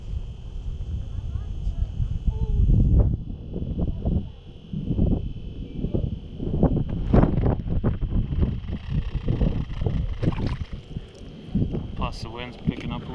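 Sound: wind picking up outdoors while fishing

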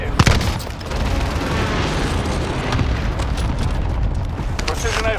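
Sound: precision airstrike explosions in video game Call of Duty Warzone

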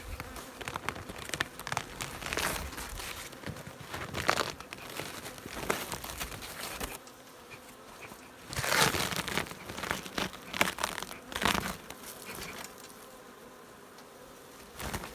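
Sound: honeybees buzzing at the hive

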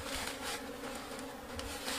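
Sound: honeybees buzzing around a hive box

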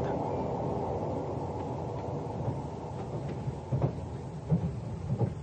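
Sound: sound effect of a train running through a tunnel in a radio drama

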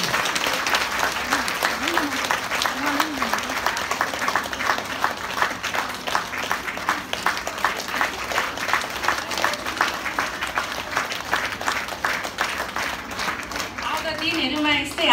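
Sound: applause for the speaker at a church fellowship

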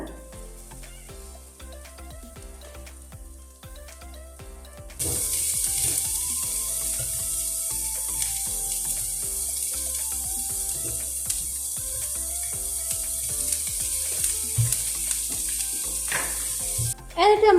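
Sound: chopped onions sautéing in coconut oil

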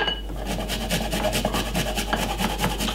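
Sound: grating garlic on a small grater

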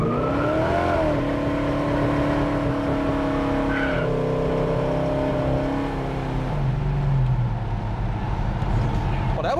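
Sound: car tires screeching while accelerating

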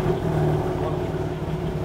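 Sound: BMW M4 Competition engine starting, with tuned firmware

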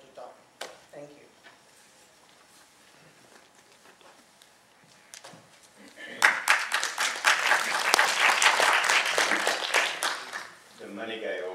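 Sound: audience applause after a talk

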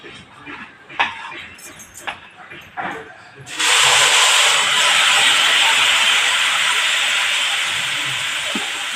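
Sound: rice and urad dal amboli batter sizzling on hot griddle

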